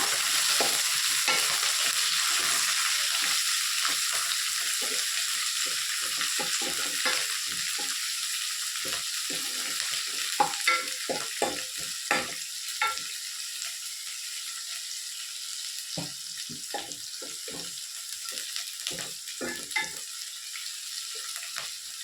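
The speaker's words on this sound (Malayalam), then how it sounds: "ഈ ഉള്ളി പച്ചമുളകിന് നല്ലോണം വാട്ടുക." Onions and green chillies sauté in a hot pan for a mushroom curry, a steady close sizzle broken by frequent scraping stirs, with no talking.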